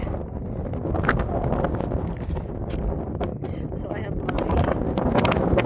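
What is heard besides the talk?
wind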